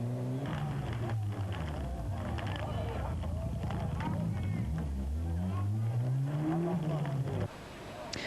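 Rally cars race through a stage of the 1994 Lana Rally in Italy, engines revving up and down in pitch sweeps while a commentator talks continuously over them.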